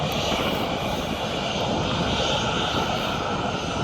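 An airliner passing overhead on approach near Birmingham Airport in England, a steady broad engine roar, loud and continuous without voices.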